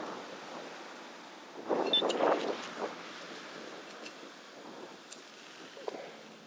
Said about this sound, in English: Boy, it's windy down here.